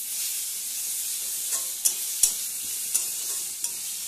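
Garlic paste frying briefly in a pan, a steady airy sizzle close up with several sharp clicks and scrapes of stirring scattered through the second half.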